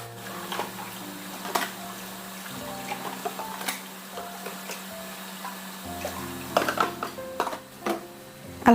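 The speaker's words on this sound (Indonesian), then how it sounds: "cuci piringnya sudah selesai" Dishes washed in a home kitchen sink at night, with irregular clinks of plates and cutlery against running water, soft and close with scattered louder knocks.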